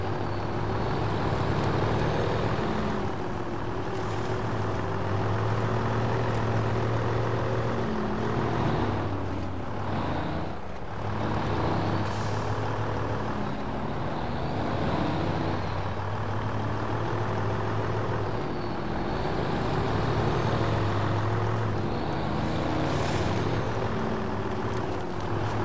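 Heavy truck engine churning through mud in the SnowRunner off-road game, a deep steady diesel drone with rising and falling revs and occasional bumps and clunks, sustained throughout with no talking.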